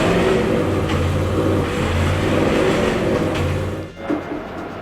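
Car engine running at a steady idle with a rough, rumbling tone, close and loud throughout with a brief dip near the end.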